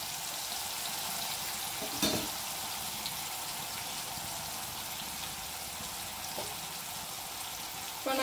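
Toor dal kurma ingredients sauté in a pan with a steady moderate sizzle and crackle, punctuated by a couple of spatula scrapes and a clatter at the end.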